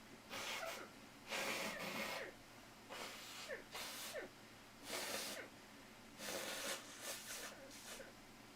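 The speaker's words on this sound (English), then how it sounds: "I need to blow my nose." A person blowing their nose, close up, in a series of about eight loud, breathy snorting bursts separated by short pauses.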